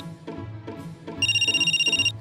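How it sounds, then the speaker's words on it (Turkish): A telephone ringing in a children's toy pig family scene: a bright electronic ringtone trill enters partway through over a low rhythmic background tune, close and fairly loud. "Bu ses de ne? Oh, telefonmuş."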